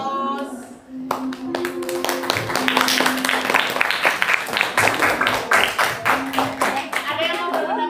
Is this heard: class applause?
yes